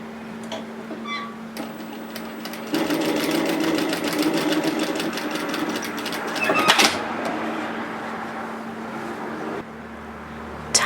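Sewing machine running a fine top stitch along the hem of a reusable fabric produce bag, a steady rapid mechanical whir and ticking that starts after a few quiet clicks, runs for several seconds, then stops.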